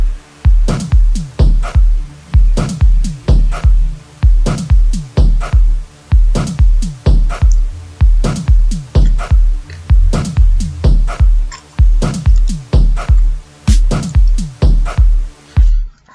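iGqom beat intro arrangement with a repeating, punchy electronic drum pattern: heavy low kicks and sharp percussive hits loop steadily and loud for the whole stretch, with no talking.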